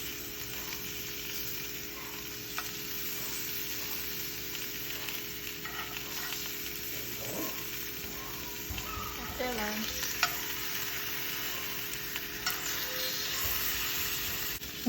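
Seasoned blackened salmon fillets frying in butter in a pan, a steady quiet sizzle running throughout with faint stirring and utensil scrapes, no talking.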